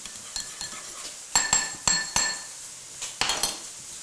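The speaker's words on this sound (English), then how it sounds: "You'll notice I keep getting a clean spoon out." Metal cutlery clinks against dishes and glass in a home kitchen, several sharp separate chinks spaced irregularly, close and fairly quiet, with no talking.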